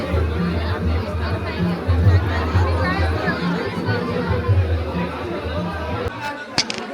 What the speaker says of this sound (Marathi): तुम्ही पाहतच असाल केवढी जास्त गर्दी आहे ते.